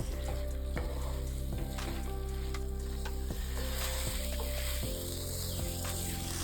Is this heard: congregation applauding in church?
no